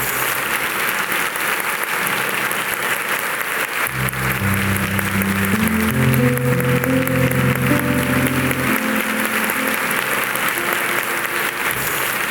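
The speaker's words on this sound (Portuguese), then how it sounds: "Uma salva de palmas para eles." A church congregation claps steadily and loudly, sustained applause filling the room, with a few voices and a brief musical tone rising in the middle.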